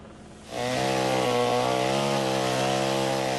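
A chainsaw cuts through tornado debris in a residential yard, starting up after a half-second of quiet and then running at a loud, steady, high-revving whine.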